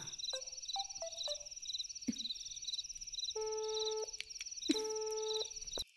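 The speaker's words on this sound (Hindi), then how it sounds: "अरे उसका फोन तो लग ही नहीं रहा है" A telephone busy signal sounds on a call that fails to connect, its repeated short tones pulsing steadily over a line hum, mixed with a few brief dial-tone bursts in a dubbed film scene.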